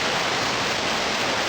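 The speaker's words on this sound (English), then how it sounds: "that is the stream which apparently forms the waterfall" The stream forming a waterfall on the Kamweti River, a loud continuous broadband rush of falling water, steady and unbroken throughout.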